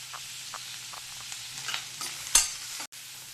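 Onion and curry leaves frying together in a pan for a paneer pizza topping: a soft, quiet sizzle with regular light scrapes of stirring, then a sharper clack of the utensil just before a brief cut.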